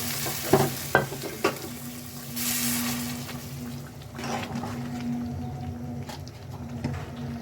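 Liquid pours into a hot frying pan with winter vegetables, opening with a few clanks before a sustained close sizzle and the scrape of stirring over it.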